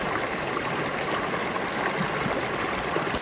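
A river stream flowing through a New Zealand valley, a steady broadband rush of water that stays constant and fairly close throughout, with no voices.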